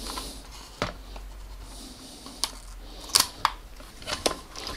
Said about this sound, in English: cut the film.